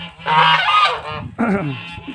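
Several loud, nasal honks from geese close by, two drawn-out calls separated by a brief pause.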